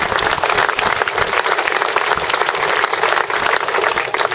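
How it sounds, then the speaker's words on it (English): Loud, dense applause from a crowd honouring speed record holders after a run of about 423 miles an hour, sustained evenly throughout without a break. "So let's give them a round of applause."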